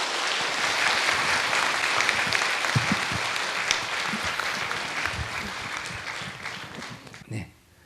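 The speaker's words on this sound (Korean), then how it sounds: "박수 쳐주세요" An audience claps together in a studio talk session on addiction, a dense, lively round of applause with a few sharper individual claps, tapering off and ending abruptly.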